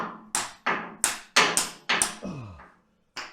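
Several sharp metallic hammer taps, irregularly spaced, driving a core plug into a Rover V8 alloy engine block, close up, with a brief scraping slide near the end.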